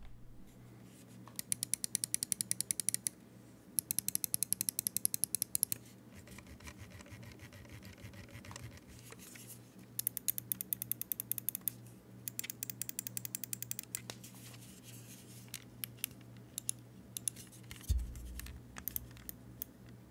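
Bursts of rapid, crisp clicks from an Xtrfy M4 mouse's Omron switches, close and dry, in quick clusters separated by brief pauses, with no talking.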